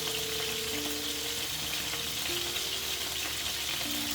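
Iberian pork pluma browning in plenty of hot oil in a pan, a steady dense sizzle with no pauses, close and even throughout.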